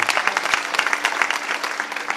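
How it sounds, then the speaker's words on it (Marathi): An audience at a kirtan devotional performance claps steadily, a dense burst of many hands applauding together, close and fairly loud. "मला एकदा त्याच्यासाठी टाळी वाजवावा"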